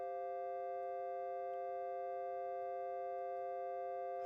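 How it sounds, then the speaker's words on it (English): A subtractive synthesizer holds a chord with a filter envelope set to open from dull to rich; the chord sounds as a steady, clear, sustained cluster of pure tones, alone and evenly held. "as I play this chord, I should hear the sound start with a dull sound that will become richer."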